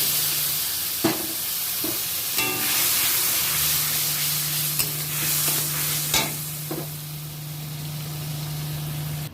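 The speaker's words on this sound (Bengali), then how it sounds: "আমি জল অ্যাড করে দিচ্ছি" Mustard paste cooking in a pan hisses and sizzles steadily as water is added, with a few sharp clinks and scraping stirs of a spoon against the metal over a constant low hum.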